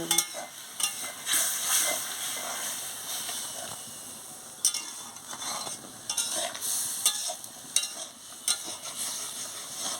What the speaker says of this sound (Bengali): কষানো হয়ে গেছে পরিমাণ মতন জলটা দিয়ে দিচ্ছি একটু